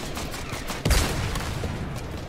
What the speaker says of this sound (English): Oh, somebody shooting me, somebody shooting me.